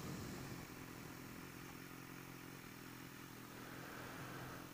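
BMW S1000R motorcycle being ridden, a faint steady engine drone with wind noise and a slight rise in pitch near the end, no voices present.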